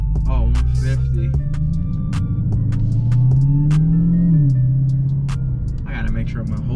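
A supercharged 2020 car fitted with a Legmaker intake idles high nearby, with a deep engine rumble under a steady mechanical whine that rises and falls as the revs shift, punctuated by sharp clicks and a brief voice.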